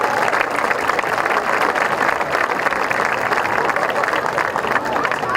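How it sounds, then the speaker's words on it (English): Sustained applause from a crowd at a high school football game's Hall of Fame induction, steady and dense throughout, with a faint murmur of voices mixed in. "how about a nice round of applause for your inductees"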